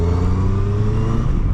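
A Kawasaki Versys 1000 motorcycle is ridden on the road, its engine giving a steady, loud droning hum with a smooth, even pitch as it pulls, close to the rider.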